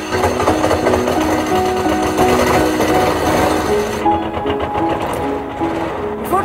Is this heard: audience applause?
no